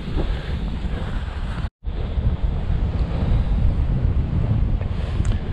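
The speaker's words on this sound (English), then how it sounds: "It's a bit windy again" Strong wind buffets the microphone in a steady roar on a countryside walking trail, with a brief drop-out partway through and a faint wash like surf underneath.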